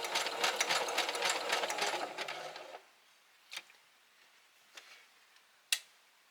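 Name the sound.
sewing machine stitching denim rope bowl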